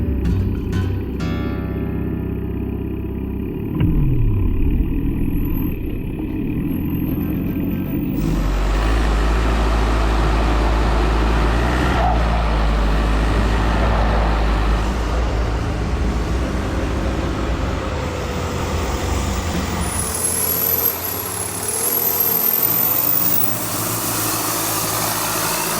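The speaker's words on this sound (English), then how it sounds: "It sounds so good for not having any exhaust. You just hear the turbo whistle." A turbocharged engine running with no exhaust fitted, its boost solenoid hooked up, gives a loud, steady mechanical drone throughout, with a high turbo whistle rising near the start and again near the end, close and alone.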